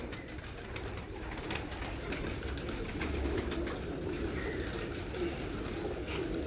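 Pigeons in a loft coo steadily and close by, the soft repeated calls sitting over a dense, constant background hum with no voices.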